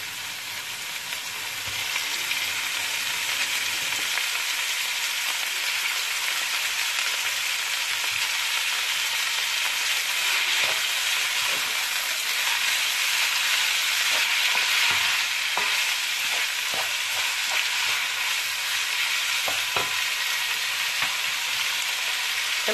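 Minced meat sizzling in a pan with golden-browned onions, a loud, steady frying hiss that carries on without pause, with faint stirring scrapes now and then.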